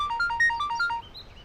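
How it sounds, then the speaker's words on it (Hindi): A phone ringtone plays a bright, repeating electronic melody of short alternating beeps, loud and close, for about a second before cutting off. "भैया फोन।"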